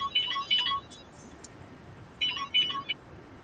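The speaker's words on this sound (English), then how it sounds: "Abby, your phone's going off" A phone ringtone plays two short bursts of bright melodic electronic tones, about two seconds apart, fairly quiet in a room with no one talking.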